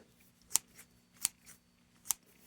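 Tightened riveted scissors slice through a piece of felt, giving three crisp, evenly spaced snips, close and clear against a quiet background.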